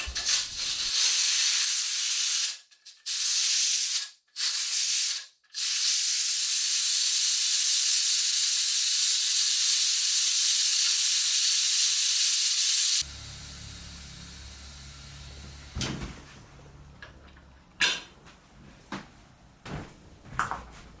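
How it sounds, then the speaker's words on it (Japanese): Loud, steady steam hiss from a pressure cooker's pressure release blasts for about twelve seconds, briefly cut off a few times, then gives way to quieter clattering and knocks. "窓を開けて鍋の圧力を抜いていく。"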